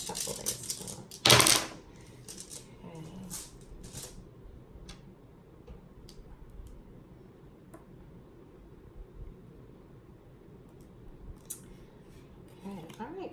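Small rune stones clack and click as they are shuffled for a reading, with a sharp clattering burst near the start and then scattered light taps that fade into quiet room tone.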